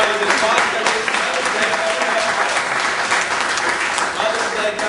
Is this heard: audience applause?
yes